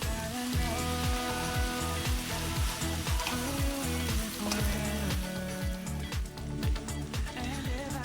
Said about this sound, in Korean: 야채가 익었다면 밥을 넣고 볶아주세요.